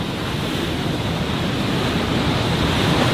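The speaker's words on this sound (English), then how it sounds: "I just want this section to do that same thing where the waves come flying up" Ocean surf surging at Thor's Well on a rocky coast, a loud continuous roar of crashing water mixed with wind buffeting the microphone, close and unbroken for a few seconds.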